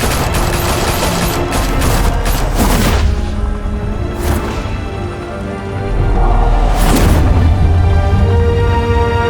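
Gunfire breaks out in the Batman: The Telltale Series video game, a loud sustained fusillade of booming shots with dense bursts and crackling rattles that swell again after a brief lull.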